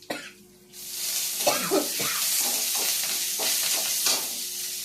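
Garlic clove and a pinch of curry leaves frying in hot oil for beetroot chutney, a steady broad sizzle that rises after a quiet start and holds at a close, even level with some stirring clatter.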